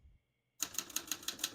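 A 1967 Olivetti Lettera 32 portable manual typewriter typing a quick run of about seven crisp, evenly spaced keystrokes, close and clear after a short silence.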